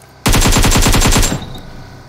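A rapid burst of about ten automatic gunshots rings out in the video game PUBG Mobile, loud and close, then cuts off into a faint tail.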